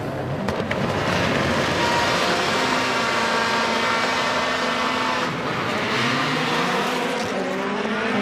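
Rallycross supercars launching from the start of a final at Kouvola, Finland, make a dense, loud, continuous roar of many engines that rises and shifts as the cars pull away, with no voices.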